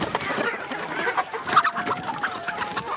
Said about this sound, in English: her parents gave her 4 10-week-old chickens